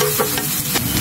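Garlic sizzles steadily in hot oil in a pan as it is stirred and browned for ginisang gulay, with a continuous close frying hiss and occasional scraping.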